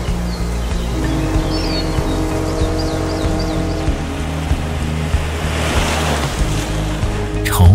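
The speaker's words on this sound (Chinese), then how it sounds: "每次惊涛拍岸" Ocean waves crashing on a shore, a loud continuous roar of surf with wind noise and a low hum underneath, building toward the end.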